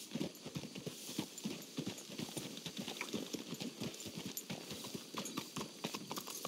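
Horse hooves clip-clop steadily on the ground in the Western game Red Dead Redemption 2, a busy, close rhythm of many hoof strikes running throughout over faint outdoor ambience.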